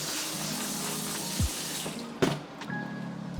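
Home-grown potatoes are washed under a running kitchen tap, a steady close hiss of water with a few clunks and splashes as they are handled.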